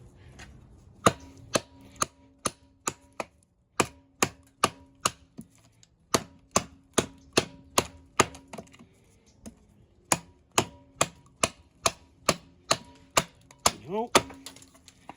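A TOPS Wild Pig Hunter blackout edition knife chops into a wooden stick, giving a long series of sharp, close, loud wooden chops in uneven bursts, with brief pauses between groups of strikes.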